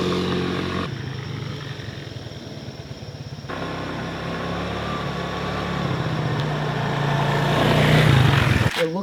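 A Buddy 125 scooter engine runs on a short test ride, a steady buzzing drone that holds, drops briefly, then climbs in pitch and loudness as the scooter speeds up, with no talking.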